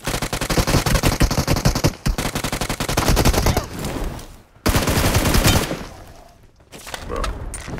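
Loud, rapid automatic gunfire from PUBG Mobile hammers in sustained bursts with brief pauses, close and dominant, trailing off near the end.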